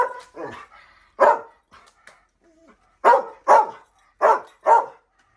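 A dog outside barks in a series of sharp, close barks, some in quick pairs, mixed with softer whimpers and yips between them.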